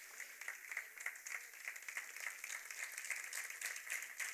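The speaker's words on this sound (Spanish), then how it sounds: "denle un fuerte aplauso al Señor" A church congregation claps for the Lord, a steady, even wash of many hands at moderate loudness with a faint rhythmic pulse throughout.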